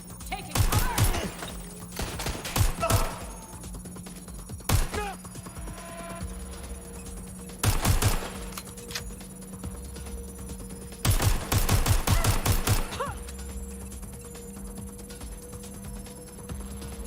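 Video game gunfire in loud bursts, broadband volleys repeating at intervals between quieter stretches, with a steady hum and occasional game voice lines underneath.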